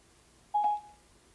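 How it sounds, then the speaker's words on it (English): A car's standard head unit plays a single short dialing tone, a bright steady beep of about a quarter second, loud and clear over a quiet background as a hands-free call to a contact is placed. "Calling Lisa Smith"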